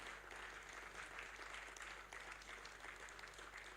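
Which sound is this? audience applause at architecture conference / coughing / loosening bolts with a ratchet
audience applause at architecture conference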